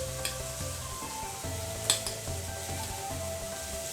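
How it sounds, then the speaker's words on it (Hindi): Sliced onions frying in a pan with salt and turmeric for an elephant foot yam curry, a steady close sizzle with occasional stirring scrapes and utensil clinks, no voices. "नमक और हल्दी हमने इसलिए यहाँ पे डाल लिया ताकि प्याज अच्छे से गल जाए और भून जाए"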